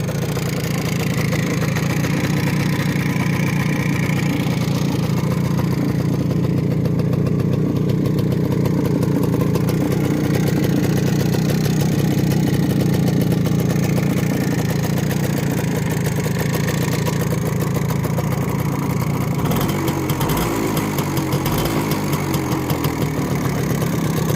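An MZ 150 motorcycle engine runs continuously close by, a steady loud two-stroke idle with a rattling, knocking texture and a brief throttle change near the end, with no voices.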